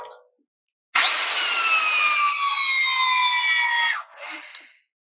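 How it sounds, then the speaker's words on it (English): A structural bolt is tightened in a tension-testing setup, giving one loud, steady, high-pitched creaking squeal that lasts about three seconds and gradually drops in pitch before cutting off, followed by a quieter clunk. "we're going to go ahead and we're going to tighten the bolt"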